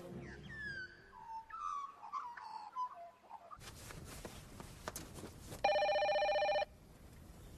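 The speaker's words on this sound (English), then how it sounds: "PJ, answer the phone" A telephone rings in one steady electronic burst of about a second, following birdsong and background movement, with no talk over it.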